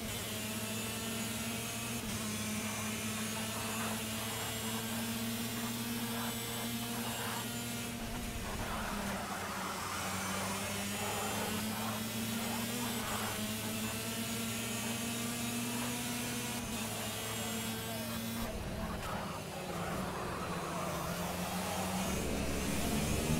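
A racing car engine in the Project CARS video game whines steadily at high revs, a loud, continuous buzzing drone with sharp pitch drops at gear shifts and strong harmonics, sustained throughout.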